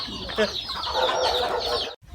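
Chickens cluck and squawk loudly and continuously as they are caught, close by and agitated, before the sound cuts off abruptly.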